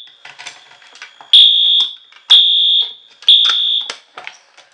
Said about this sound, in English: So I'm going to pull pole station number 2. And the alarm goes off.